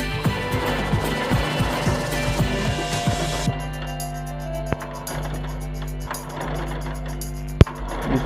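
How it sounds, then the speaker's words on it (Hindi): Sewing machine running a double line of stitching along the sleeve of a katori blouse, a steady mechanical rattle for the first few seconds, then stopping and leaving quieter handling noises. "इसको सिलाई यहाँ से हमको इसको डबल सिलाई चला देना है"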